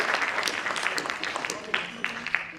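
Audience members at an annual school function clap for proud parents, a busy patter of hands with sharper individual claps standing out and a murmur of voices mixed in.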